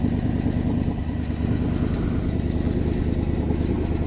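A 1964 Chevrolet Corvette roadster with its original 327 V8 idles after a cold start, a loud, steady, deep rumbling burble with a slightly uneven lope, close and continuous.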